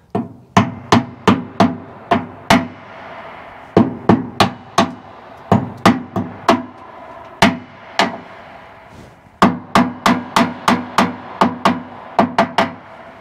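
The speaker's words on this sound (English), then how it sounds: "I wonder if I can knock them off with a hammer." Sharp blows from an old hammer strike metal in quick bursts of four to six, each hit ringing briefly before the next, with short pauses between groups.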